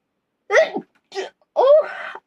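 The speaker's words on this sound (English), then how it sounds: "That was a sneeze." A person sneezes close by and loudly in an outdoor park, three sharp bursts with short gaps between them, the last one longer, heard alone against silence.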